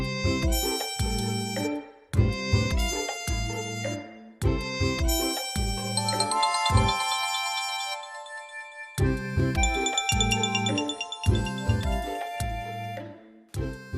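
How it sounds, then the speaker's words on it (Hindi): Phone ringtone playing as a bright chiming electronic melody, repeated in phrases with brief gaps, clear and fairly close with no talk over it. "अकरम साहब को फोन आया"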